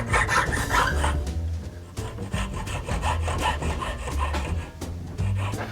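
A handsaw cuts through a wooden gun stock piece with steady rasping strokes, each pass scraping loudly and closely, with short pauses between bursts.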